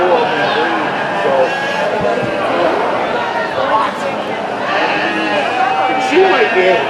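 Sheep bleating repeatedly at a youth sheep show, several calls overlapping amid a busy crowd with people talking throughout.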